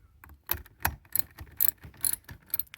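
A cheap quarter-inch socket set ratchet clicks in short bursts of sharp ticking, several quick rounds close up while working on a 1975 Cadillac Fleetwood that sat for 22 years.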